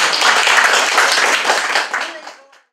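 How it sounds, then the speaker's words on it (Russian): A short burst of audience applause at a local event honoring a veteran broadcaster, dense clapping that holds steady and then tapers off quickly into silence. "За это, мне кажется, вы заслуживаете самых бурных аплодисментов."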